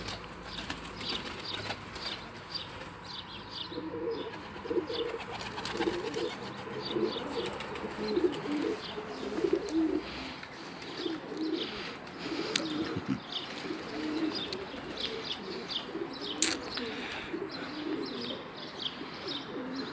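Pigeons coo in repeated low, throaty phrases, with scattered chirps and occasional wing flaps from a busy flock nearby.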